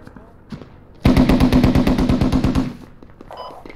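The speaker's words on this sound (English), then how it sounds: "Stop shooting it, you're gonna hit me" A loud, rapid burst of automatic gunfire in the military game Squad, about a dozen closely spaced shots in roughly a second and a half, preceded and followed by a few scattered distant shots and faint talk.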